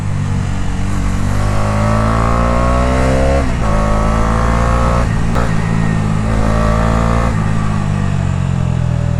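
A 2024 Bajaj Dominar 250 motorcycle held in fourth gear revs hard, a loud close engine drone whose pitch climbs, dips and climbs again in repeated surges, with no talk over it.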